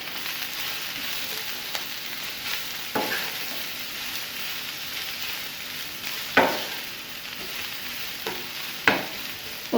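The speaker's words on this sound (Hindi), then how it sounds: "इसको तकरीबन चिकन के साथ 1 मिनट के लिए फ्राई करेंगे" Chopped onions and chicken sizzle steadily in a pan over a low flame, with occasional sharp scrapes and knocks from stirring cutting through the constant frying hiss.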